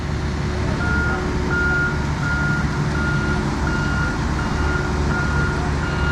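Steady, evenly spaced reversing beeps from a concrete truck backing in on a job site, loud and close over a heavy diesel engine rumble, no talking.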